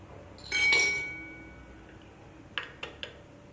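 A spoon clinks against a glass container while pressing flowers soaked in oil for homemade hair oil: a louder clatter first, then three short, sharp taps close by, with no talking.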